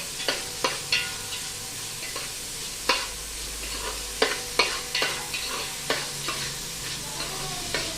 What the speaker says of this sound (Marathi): कांदा टाकलाय आणि हा कांदा छान सोनेरी होईपर्यंत परतायचा